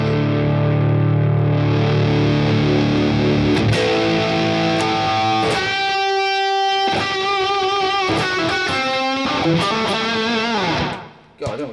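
Overdriven electric guitar through a Boss Katana amp's Blues Driver model, played loud and continuous, sustained gritty chords giving way to busier picked notes and bends, cutting off abruptly at the end.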